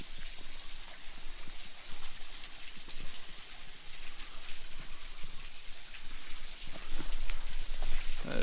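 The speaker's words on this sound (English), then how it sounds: "That's a nice little waterfall." A small waterfall on a scenic creek pours in a continuous close splashing hiss, steady throughout and swelling slightly toward the end.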